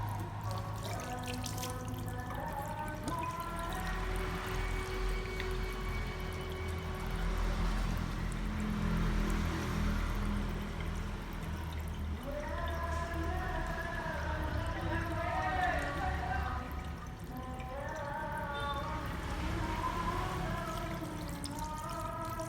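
Water runs steadily from a tap during handwashing before a kidney and urogenital physical examination. A continuous rushing flow plays under intermittent talking throughout.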